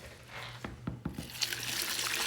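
A few sharp knocks come first, then lukewarm water is dumped into a bowl for focaccia dough, giving a rising, steady splashing rush that keeps going to the end.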